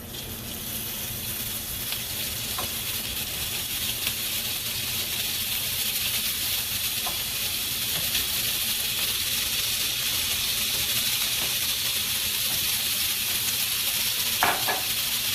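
Sausage browning in olive oil in a pan gives a steady, close sizzle with a few soft clicks and scrapes throughout, and no talking.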